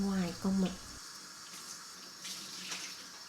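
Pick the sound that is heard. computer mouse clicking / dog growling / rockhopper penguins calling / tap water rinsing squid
tap water rinsing squid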